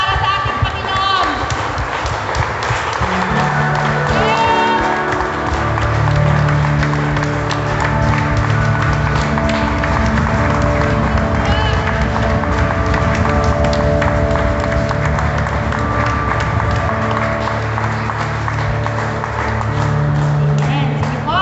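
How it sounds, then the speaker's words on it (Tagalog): A church congregation at a Sunday celebration service claps together for a long stretch over steady music, with voices mixed in beneath the applause. "isa pa po palakpak para sa ating Panginoon"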